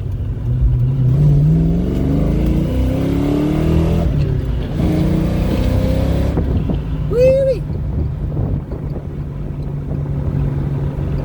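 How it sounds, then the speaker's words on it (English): A 1994 Ford Mustang GT CL edition engine with aftermarket cam, headers, air intake and full exhaust roars and revs hard up through the gears, loud and close, with wind noise buffeting the microphone. "1994 Mustang GT CL edition has got anything left in her. Put the pedal to the metal."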